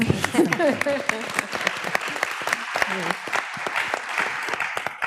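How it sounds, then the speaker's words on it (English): Audience applause at a presentation, scattered sharp claps building into a round, with a person's voice talking over the start and more voices murmuring among the clapping. "We need a round of applause."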